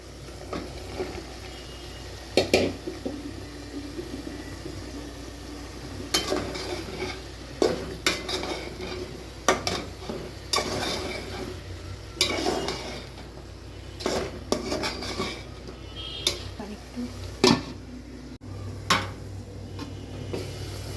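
Potato, pointed gourd and eggplant being stir-fried in a pan, with a low sizzle underneath and repeated clanking scrapes of a utensil against the pan at irregular intervals, close and alone.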